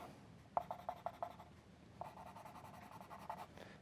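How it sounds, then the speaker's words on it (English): Black colored pencil scratching over paper while inking a drawing, a run of quick close strokes followed by steadier continuous shading, soft and near. "just a little black colored pencil again to a little pretend inking."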